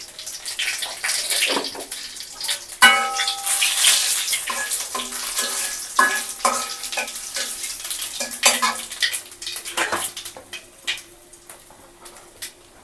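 Cumin frying in a pan, loud busy sizzling mixed with repeated clatter of a utensil on the pan and some watery splashing throughout.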